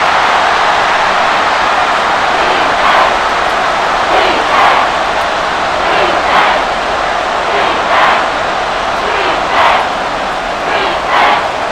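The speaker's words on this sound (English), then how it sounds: "the crowd getting into it as we come up on a big 3rd down" A stadium crowd in the Madden NFL 24 video game, Giants versus Commanders, roars loudly and steadily, with swelling cheers that rise and fall over a continuous dense wash of noise.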